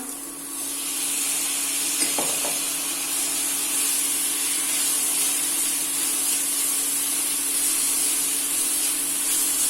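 Fenugreek leaves and green peas sauté in a pan over high flame, giving a steady broad hiss for nearly ten seconds, with a brief scrape early on and no voices.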